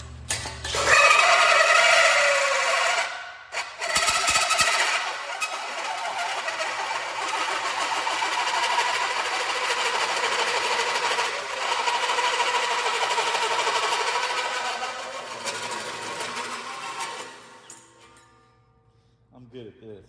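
A power drill bores holes through a metal light bracket for a Jeep, a steady high-pitched whine running nearly continuously for about fifteen seconds after a brief start, then winding down and stopping.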